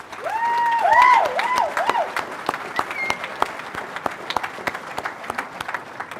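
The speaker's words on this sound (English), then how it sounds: "One more big round of applause," A college commencement crowd applauds: dense, loud clapping with a few whistles and cheers at the start, then thinning into scattered individual claps as it fades.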